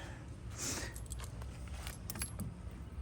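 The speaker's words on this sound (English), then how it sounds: "I've never seen this many keys on anything before." Large bunch of ambulance keys jangling and clinking in short bursts, fairly faint and close, over a low background rumble.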